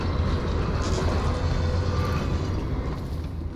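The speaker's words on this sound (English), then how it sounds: "There's the body train." A train in the Dishonored video game rumbles past as a loud, continuous low roar with rushing noise, steady throughout and slightly fading at the end.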